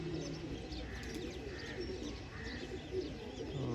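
Pigeons coo softly near a trapping net amid a busy outdoor background, with faint chirps scattered through; the cooing is continuous but low and somewhat masked by ambient noise.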